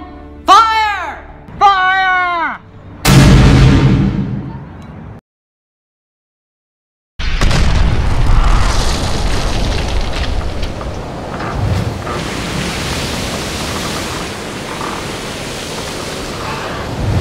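Tank cannon firing armor-piercing shells in a staged cinematic scene: a loud, sharp blast follows brief talk, then a gap of silence, then a long roaring, rumbling wash of noise.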